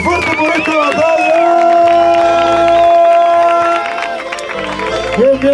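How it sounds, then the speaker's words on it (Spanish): A crowd at a freestyle rap battle cheers and shouts loudly, with whoops and some clapping in a dense, continuous roar that dips slightly near the end. "Un aplausito más fuerte por esta batalla."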